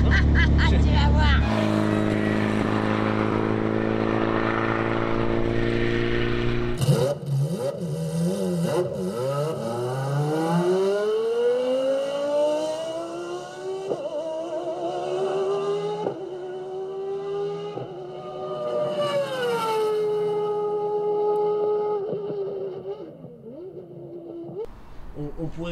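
A Volkswagen Beetle engine idles loudly, then revs up with rising pitch and pulls away, its tone climbing and falling through the gears.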